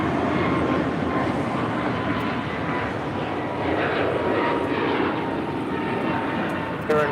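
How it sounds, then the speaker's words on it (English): An airliner's engines roar continuously on runway 25 right at LAX during takeoff, a dense, steady broadband rumble heard from nearby with faint radio chatter underneath. "Alright, let's take off."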